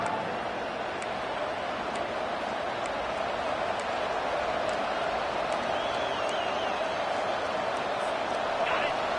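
A home crowd at an Auburn vs Ole Miss college football game roars steadily on third down, a dense, sustained wash of noise with faint whistles.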